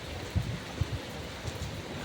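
Steady rain from a typhoon hisses continuously, with a few low thumps of drops or gusts breaking through the wash of sound.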